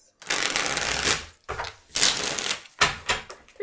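Tarot cards are shuffled by hand in several bursts, each a loud, close riffling flutter with brief pauses between, the last ones shorter and choppier.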